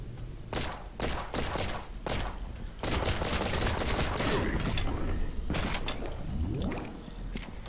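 Rapid gunfire from a weapon in the Dead Purge: Outbreak video game, bursts of shots in quick succession, loud and close, with splattering impact sounds and a brief pause before a final volley.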